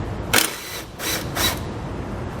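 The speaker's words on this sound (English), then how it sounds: "take a 10mm socket, I'm going to remove it, and we'll just set it down to the side" A 10mm socket on a ratchet loosens a car horn bolt on a 2018 Subaru, giving three short rasping clicks of the pawl, close and moderately loud, with no talk.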